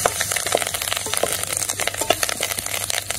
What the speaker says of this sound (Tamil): 1/2 ஸ்பூன் பெருங்காயத்தூள், அப்புறம் கருவேப்பிலை போட்டு இதை நல்லா வதக்கிட்டு